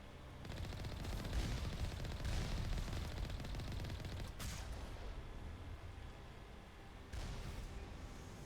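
Sustained gunfire in the Mass Effect video game, a dense continuous rattle of automatic shots with a couple of sharper bursts, steady and fairly faint in level.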